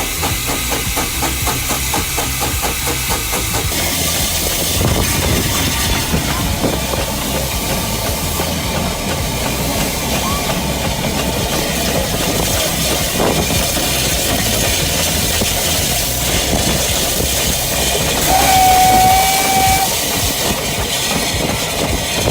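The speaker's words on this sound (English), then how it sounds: "hear the engine working hard as it hauled the train up those steep gradients" A steam locomotive hauling a train up steep gradients on the Welshpool line chuffs heavily and steadily under a constant hiss of steam, loud and close, with the rhythm of a working engine and no voices.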